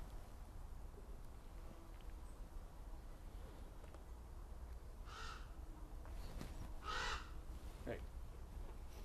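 Outdoors in logging country, a raven gives a few harsh, separate caws at mid-distance over a steady wind-like background hiss.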